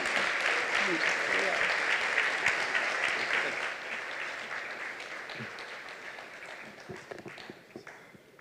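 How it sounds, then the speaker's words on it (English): Audience applause at a charity doctors' event swells at first, a thick wash of clapping that gradually thins and softens, with scattered louder claps near the end. "I ask the audience to give you a resounding round of applause"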